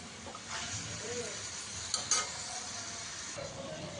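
Chicken pieces are stir-fried in a pan for a Kerala-style chicken curry, with a quiet sizzle under a few scraping stirs and a couple of sharp utensil clinks near the middle.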